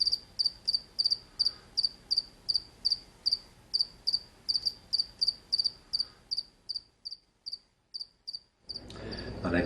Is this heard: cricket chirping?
yes